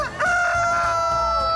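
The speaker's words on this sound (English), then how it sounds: "These roosters are giving it their all in the Rooster Crowing Contest." A rooster crows loudly and close in a rooster crowing contest, one long sustained cock-a-doodle-doo that holds its strained, wavering tone almost to the end, with no talk over it.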